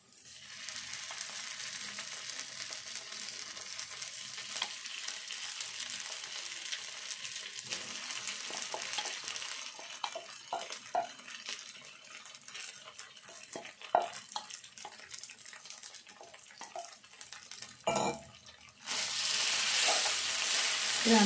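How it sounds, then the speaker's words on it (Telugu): Soaked, softened poha fried in oil in a pan, giving a steady close sizzle with scattered scraping stirs and clinks, briefly quieter near the end before the frying hiss swells again. "ఇదంతా కూడా మంచిగా నూనెలో వేయించుకోవాలి."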